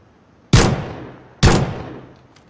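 Two sharp pistol shots from a PUBG match ring out about a second apart, each loud and close with a decaying tail, with no talk between them.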